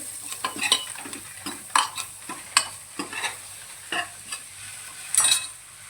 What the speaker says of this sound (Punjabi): ਹਲਦੀ ਨੂੰ ਆਪਾਂ ਮਿਕਸ ਕਰ ਲਾਂਗੇ